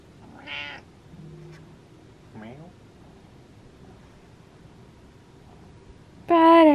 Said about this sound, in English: Won't look at you, see if he meows.